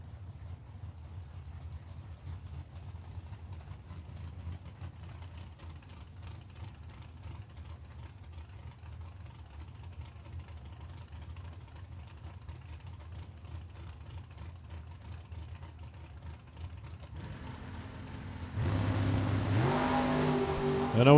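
A Ford Mustang and an Oldsmobile Cutlass drag racing at a drag strip: a distant, low engine rumble hangs quietly for a long stretch, then swells into a loud roar near the end.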